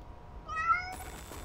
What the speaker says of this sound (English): It looks like this kitten is in trouble.